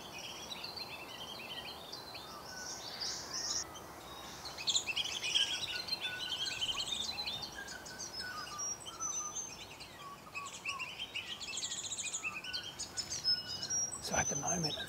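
Small birds, a thornbill and superb fairy wrens, call from parkland canopy and lower shrubs, giving faint, scattered high chirps and tweets over steady insect-like background noise.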